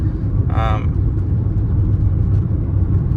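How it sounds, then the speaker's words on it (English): A steady low rumble of road noise fills the interior of an old, poorly insulated car, droning continuously, with a brief tonal squeak early on. "this car does have a lot of road noise because it doesn't have like insulation"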